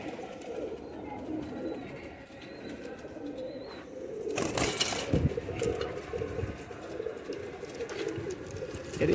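Young pigeons in a rooftop loft coo softly amid steady low murmuring, with a brief louder rustle or flutter midway; the cooing continues faintly and evenly throughout.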